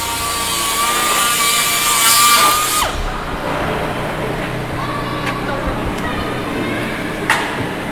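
A saw cuts aircraft fuselage skin to size with a loud, steady whine that stops partway through, leaving workshop clatter and a few sharp knocks, and a voice speaks near the end.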